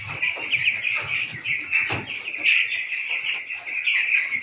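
Fourteen-day-old broiler chicks in cages chirp constantly and densely while feeding, a steady high twittering with soft pecking and shuffling underneath.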